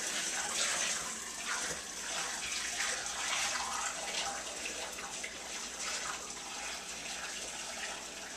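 Liquid pours steadily into cold water while making beer wort, a continuous splashing gush, close by and fairly loud, no voices.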